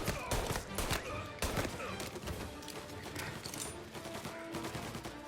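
Gunfire in the game Mafia Definitive Edition, a rapid fusillade of loud sharp shots in quick bursts with heavy impacts, dense and continuous throughout.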